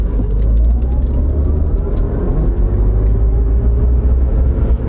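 A heavy Chevy truck weighing about 8,800 pounds accelerates hard, its deep engine roar and road rumble filling the cabin at close range, loud and steady with no speech.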